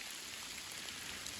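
Steady rain patters on leaves and ground in a drier ridge-line forest of the Great Smoky Mountains, a soft continuous hiss of drops close around, fairly quiet and with no voices.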